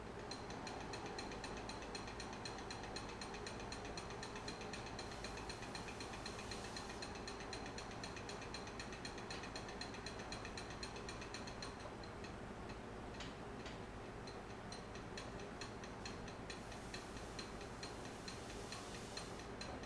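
A wood lathe turns a segmented bowl slowly at about 120 RPM. The sound is a faint, steady rhythmic ticking and whirring, with regular clicks running all the way through.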